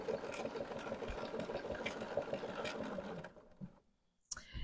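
A BERNINA sewing machine fitted with a leather roller foot quilts through two layers of cotton with batting between them. It hums and stitches steadily and close for about three seconds, then stops, leaving near silence and a brief handling sound.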